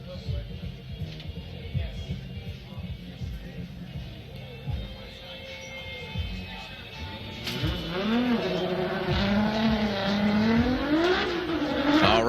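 A green Nissan S15 drift car on Achilles tires runs at a Formula Drift Orlando event, its engine droning and then rising into loud revving with squealing tires, while a commentator talks over the track noise.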